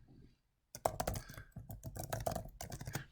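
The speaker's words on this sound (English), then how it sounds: "once I'm in my discussion post and I'm typing" Typing on a computer keyboard while writing a discussion post: a steady patter of close, crisp key clicks starting after a brief silent gap and running continuously, with no voice over it.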